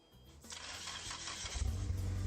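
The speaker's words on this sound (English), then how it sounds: "We're all used to the sounds of our cars starting." A car engine starts: a brief cranking whir, then the motor catches and settles into a low, steady idle, close and clear with no talk.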